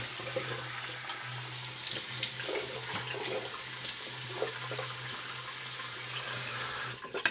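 A faucet runs continuously, a steady close rushing of water into a basin, stopping abruptly near the end with a few clunks.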